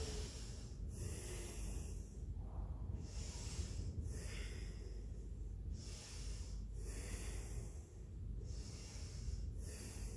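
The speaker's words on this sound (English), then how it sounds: "Just stay here for some deep breathing." Deep, strong breaths drawn in and pushed out in a slow, steady rhythm during a yoga stretch, close and fairly loud, with several long hissing exhales and no talking.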